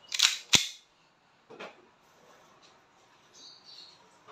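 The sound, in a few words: airsoft pistol (WE Hi-Capa T-Rex) firing during chronograph test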